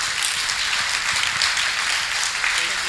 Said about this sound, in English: So I'll give a round of applause to Jim Cruiser.